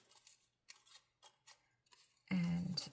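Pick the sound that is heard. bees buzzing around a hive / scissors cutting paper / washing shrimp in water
scissors cutting paper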